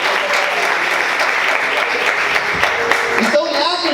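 A church congregation applauds loudly and continuously, a thick roar of clapping that stays steady throughout, with a voice rising over it near the end.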